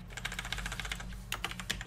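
Rapid clicking keystrokes on a QWERTY computer keyboard, steady and close, with a low hum running under the typing.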